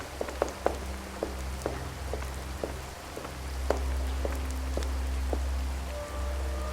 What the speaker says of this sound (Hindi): बाहर बारिश लगातार गिर रही थी।